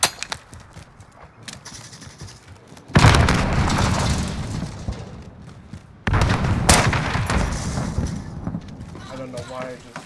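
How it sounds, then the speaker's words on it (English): Heavy gunfire and booming blasts in Modern Warfare multiplayer, two loud sustained bursts separated by a quieter stretch, with a player's voice over the combat. "I don't know why I just fired."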